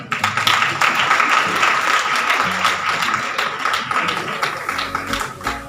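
An audience at a school merit award ceremony gives sustained, dense applause for a student honoured for top exam marks. The clapping stays loud and steady throughout, with no speech over it.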